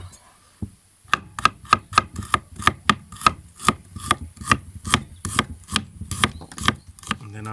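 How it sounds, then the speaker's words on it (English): Knife slicing fresh garlic finely on a board, a rapid run of crisp, close, even taps that starts after a quiet second and continues steadily to the end, with no talking. "we're gonna use a little bit of fresh garlic, just slice that finely"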